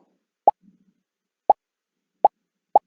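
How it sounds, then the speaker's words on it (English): Four short, hollow pops sound one after another with gaps between them, each crisp and isolated against silence. "Play sound pop until done"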